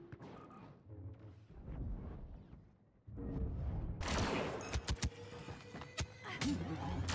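Blaster fire in Star Wars Battlefront 2 during a Heroes versus Villains match, a rapid series of sharp loud shots cracking in bursts over the second half, layered over busy battle noise and movement.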